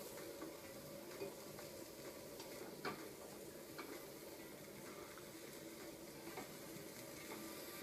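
A hake fillet cooks skin-down in a hot pan, giving a quiet, steady sizzle with occasional small crackles and pops throughout.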